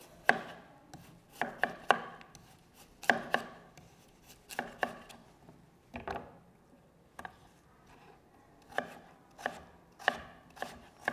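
A knife chopping potato into small pieces on a board: irregular bursts of crisp, close knocks in quick runs separated by short pauses, with no voices.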